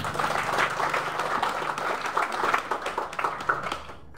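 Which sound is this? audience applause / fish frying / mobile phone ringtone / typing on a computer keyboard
audience applause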